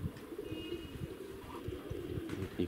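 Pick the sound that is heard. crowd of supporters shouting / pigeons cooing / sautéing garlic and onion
pigeons cooing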